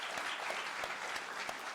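An audience applauds steadily, a dense wash of many hands clapping without pause.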